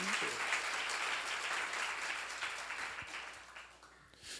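A church congregation at a seminar breaks into sustained applause, a wash of many hands clapping that holds steady at moderate distance, then thins and fades toward the end.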